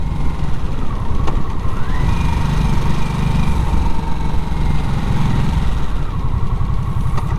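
A 2024 Harley-Davidson Nightster's liquid-cooled engine runs steadily and close, a rough, throbbing drone with a rising pitch shift as the revs climb and settle during a test ride.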